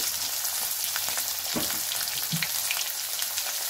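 Potatoes and green chillies fry in hot oil in a pan, giving a steady broadband sizzle throughout with a few faint stirring clinks and no talking.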